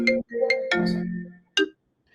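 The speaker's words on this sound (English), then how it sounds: "I got a phone call. I just muted." A phone rings with an incoming call, a short melodic electronic ringtone of several bright chiming tones followed by one final chime, clear and close with no voices.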